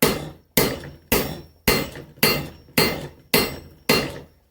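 Eight heavy, evenly spaced hammer blows ring on hot steel during an axe forge weld, each strike sharp and loud with a short decaying ring before the next, close and alone.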